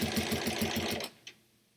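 A home sewing machine stitches in steady rapid pulses for free motion quilting, running loud and close for about a second before stopping, followed by a single small click and quiet.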